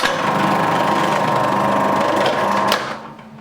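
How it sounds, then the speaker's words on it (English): A Magimix food processor slices a carrot into thin slices with a loud, close, steady motor whir that runs for nearly three seconds and then spins down and fades. "this time we have our trusty Magimix slice a carrot into thin"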